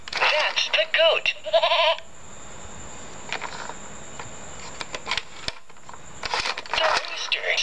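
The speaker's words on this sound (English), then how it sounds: "Fox the Goat." A goat gives several wavering bleats at the start, followed by quieter stretches with clicks and faint insect-like background, while voices talk over parts of it.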